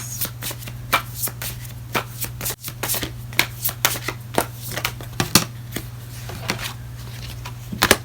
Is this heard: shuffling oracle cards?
yes